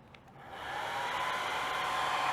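A hair dryer set to medium heat starts up and settles into a steady loud whoosh, drying adhesive on a polyurethane car headliner, close by with no talking.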